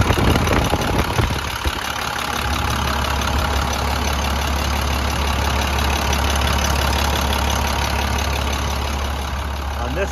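The DT466 diesel engine of an International school bus idles with a steady, loud low rumble and clatter that runs unbroken, after a brief rougher burst at the start.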